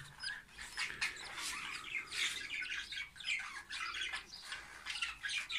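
Budgerigars in a breeding aviary with nest boxes and chicks keep up a steady stream of busy chirps and squawks, loud and continuous throughout with no talking.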